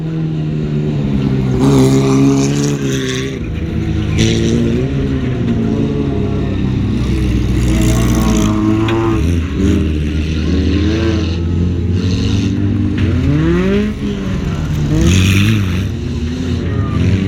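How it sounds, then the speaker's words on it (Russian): Race cars lapping in a no-rules car race at Zhatay, engines revving and droning loudly and continuously as they pass, with a commentator talking over the engine noise. "гонщики накручивают круги, кто больше наездит"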